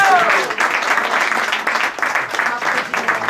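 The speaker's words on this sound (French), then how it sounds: "Si vous voulez, on peut aussi l'applaudir" Audience applause at a restaurant award ceremony in Paris, a dense, sustained patter of many hands clapping at close range, fading and swelling slightly over a few seconds.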